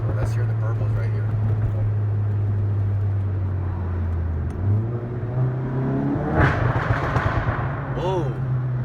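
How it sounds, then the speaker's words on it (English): A VW GTI MK7 with a Performance Pro 1 catback exhaust drones steadily under a passenger's talk, then its engine note shifts, followed by a few brief pops and burbles on lifting off the throttle. "Let's hear the burbles right here."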